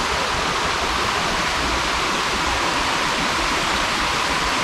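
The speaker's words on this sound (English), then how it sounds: "and the falls is just raging here." A waterfall swollen by days of heavy rain roars loudly and without a break, a dense close rush of water.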